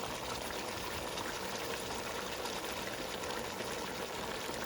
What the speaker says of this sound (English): I've added 2 cups of water